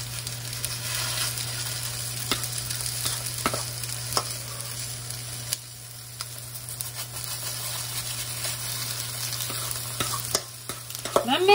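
Salmon burger patties fry in hot oil in a pan, a steady close sizzle running throughout with a few soft clicks and shifts, no voices.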